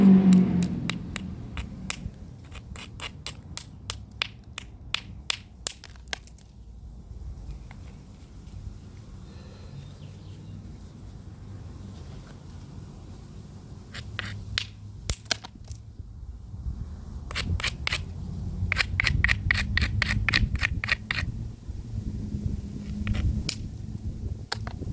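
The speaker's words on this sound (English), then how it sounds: "You can also do a brush and grind like I'm doing now. Or, yeah, brush, grind, and then take a flake like that." Stone being worked by flintknapping, with brushing and grinding strokes on the edge and sharp taps striking off flakes; clustered clicks and scrapes come in bursts with pauses between, close and fairly crisp, no talking.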